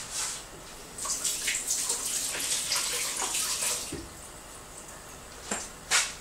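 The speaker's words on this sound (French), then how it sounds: "je vais venir le rincer à l'eau claire" Clear tap water runs over a peeled boiled egg in a steady stream, with shifting splashes as the egg is turned and a couple of louder knocks near the end.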